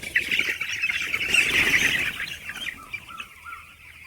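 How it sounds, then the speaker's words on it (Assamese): A flock of 18-day-old broiler chicks fills a poultry shed with dense, continuous high cheeping and squawking, many birds calling at once close by, without any talking. "এয়া 18 দিনৰ ব্ৰইলাৰ পোৱালি আৰু 18 দিনত চাওক কেনেকুৱা দেখা হৈছে।"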